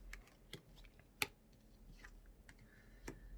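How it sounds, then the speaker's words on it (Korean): Tarot cards are flipped over one by one, giving a few brief, soft papery snaps and slides spread across a quiet moment, with one sharper flick in the middle. "자, 그러면 세 장의 카드 뒤집어 보도록 해볼게요."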